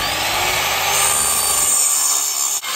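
A power saw cuts wood outdoors during garden work beside a fence, a loud continuous high whine with a bright buzzing edge that drops off abruptly near the end, close by with no talking.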